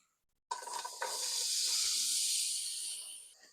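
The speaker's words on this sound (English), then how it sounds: "I'll add some olive oil, and then I can add our onions" Chopped onions hitting hot olive oil in a pot, giving a sudden loud burst of sizzle that swells into a steady, bright hissing fry and then eases slightly toward the end.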